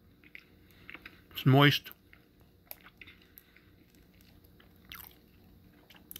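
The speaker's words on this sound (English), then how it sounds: "I'm going to try to take a bite and see what this is all about." Someone takes one loud, close bite of a Reese's peanut butter cupcake, followed by faint, soft chewing. A voice speaks briefly afterward.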